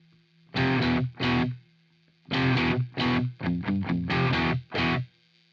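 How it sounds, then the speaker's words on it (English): Distorted Fender Stratocaster electric guitar played through a denoiser, loud strummed chords in separate bursts with clean silences between, a faint spring ping at the ends; no talking. "that little ping you're hearing at the end is actually the springs on the back of the Strat"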